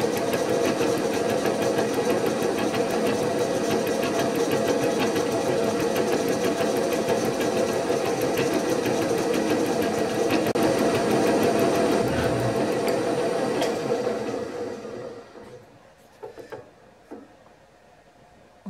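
A carbide tool cuts a radius on a steel boiler mount plate, a steady dense machining whir with rhythmic chatter that runs for about fourteen seconds, then stops, leaving a few faint clicks.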